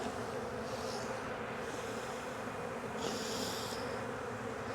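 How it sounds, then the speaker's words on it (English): Dense, steady buzzing of a large honeybee swarm close by in a hive box, a constant droning hum with no talking. "because there are a lot of bees in here"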